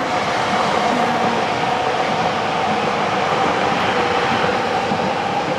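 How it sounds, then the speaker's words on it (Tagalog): A train passes on the tracks below a hillside walking path in France, a loud, steady rumbling roar with faint rail clatter, unbroken for several seconds. "Yan yung train, may train pa sa baba."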